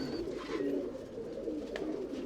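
Tumbler pigeons in a loft coo softly in low, rolling murmurs, with a couple of faint higher chirps and a brief flutter against a steady background hum.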